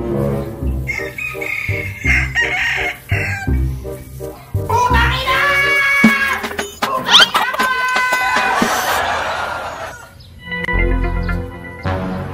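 A rooster crows repeatedly with long, strained calls, close and loud over a busy outdoor background with other birds and clucking fowl, while people talk in the background.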